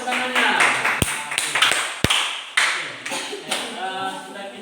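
A few sharp claps ring out in a classroom, several distinct isolated hand claps rather than sustained applause, set against children's voices and room chatter.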